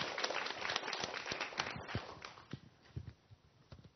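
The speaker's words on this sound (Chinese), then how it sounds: "大家给掌声。" An audience in a lecture hall breaks into applause, a dense patter of clapping that is loud at first and thins out toward the end, with no voices over it.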